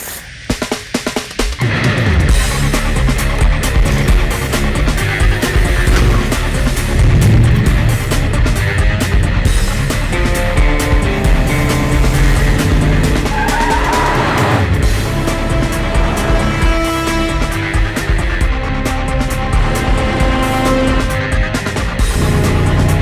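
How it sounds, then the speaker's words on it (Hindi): A car drives past at speed, with a loud roaring engine, tire noise and a rising then falling pitch as it passes, over a busy dramatic background. "ये गाड़ी बीच में कहां से आ गई?"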